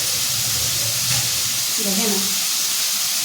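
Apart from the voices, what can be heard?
pointed gourd (potol) frying in pan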